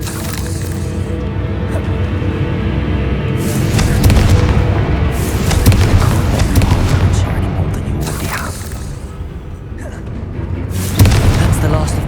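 A Confringo fire spell goes off in Hogwarts Legacy, with heavy booming explosion blasts and rumbling impacts layered over game combat noise and a voice.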